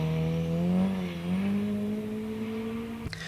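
A Mitsubishi Evo 6 RS races up the Barbon hillclimb course, its engine note loud and close, sustained and rising through gear changes before a sharp break near the end.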